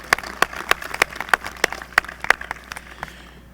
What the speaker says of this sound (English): If we could have a round of applause for all of these people